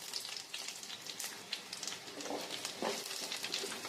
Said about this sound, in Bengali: আর কিছুটা এই কিউব করে কাটা পেঁয়াজ কুচি দিয়ে দেব।